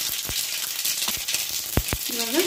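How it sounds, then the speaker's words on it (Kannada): Mustard seeds sizzle and crackle in a little hot oil in a pan, with a steady frying hiss broken by a few sharp pops, heard up close with no talking. "ನೋಡಿ ಸಾಸಿವೆ ಹಾಕೊಳ್ತಾ ಇದೀನಿ ಒಂದ್ ಸ್ವಲ್ಪ."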